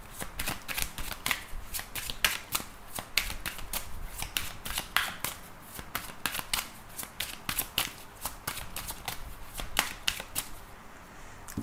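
A deck of oracle cards is shuffled again and again in quick riffling bursts, crisp papery clicks repeating steadily at close range with no voices.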